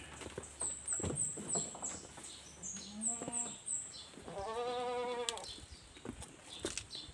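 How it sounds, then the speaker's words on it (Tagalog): Goats bleat in a short, wavering cry amid a busy farmyard in the morning, with scattered rustling, clatter and high chirps around them. "yung mga kambing."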